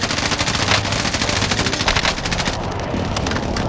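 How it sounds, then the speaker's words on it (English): A video game airstrike roars in as a dense, continuous barrage of rapid crackling blasts, loud and close throughout, with no voices. "Friendly right position airstrike inbound"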